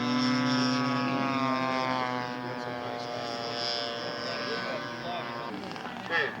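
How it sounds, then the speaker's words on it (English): A scale model P-47 airplane flies at an aircraft show, its propeller engine making a steady buzzing drone that eases slightly as it passes. People talk faintly in the background. "P-47's coming in for landing"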